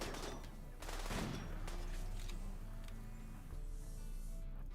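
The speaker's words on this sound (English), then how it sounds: "These guys with the machine pistols." Rapid bursts of machine pistol fire in a RimWorld battle, a dense continuous rattle of shots that stays loud and steady throughout, with a faint crackle running beneath.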